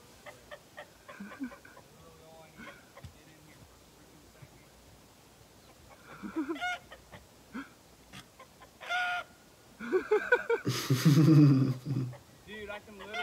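A rooster crows and clucks near the end, loud and close, after a stretch of quiet room sound with faint voices and scattered noises.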